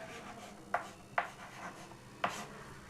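Chalk or marker writes on a board during a chemistry lecture on naming coordination compounds, making three short, distinct scratchy strokes with quiet pauses between them and no talk over them.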